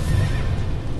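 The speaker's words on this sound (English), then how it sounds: "Is he killing my horse over?" A horse whinnies loudly in the video game Shadow of the Colossus. The neigh lasts about a second over a dense, noisy game soundscape, with no talking over it.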